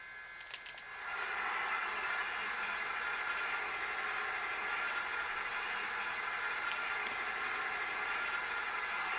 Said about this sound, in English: '25's oil burner blower.